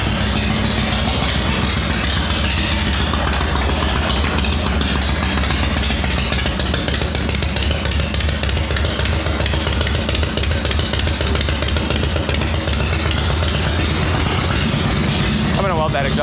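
A Shovelhead chopper motorcycle running right after its first start following winter, its engine idling with a steady loud throbbing rumble close by, continuous and rough for the whole stretch.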